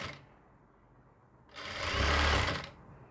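A sewing machine stitches a kameez seam, a soft lead-in then a loud, rapid mechanical whirring burst of stitching lasting about a second, close by, ending abruptly.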